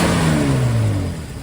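A 1947 Plymouth Super Deluxe convertible hot rod with true dual split exhaust revs hard, its loud, rough engine note climbing and then easing off slightly over a second and a half, close by.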